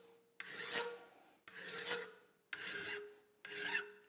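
Hand file rasping on a Ruger single action revolver grip frame being reshaped to Colt style, four separate strokes each about a second long with short pauses between, quiet and close.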